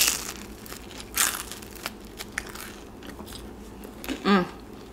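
Crunchy bites and chewing of a Papa John's Parmesan Crusted Papadia close to the mic, a few sharp crackling bursts spaced apart with quieter munching between, ending in a louder crunch.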